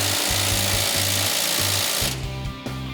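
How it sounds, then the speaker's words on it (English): A heavy power drill chatters and hammers loudly in rapid pulses while drilling the frame of a 1970 C20 truck, then the pitch shifts as it bores on, close and harsh. "We're gonna need a bigger drill."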